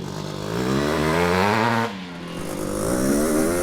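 Honda RC500 factory two-stroke motorcycle ridden through thorn bushes, its engine droning loud and close with rising and falling revs, easing briefly before climbing again.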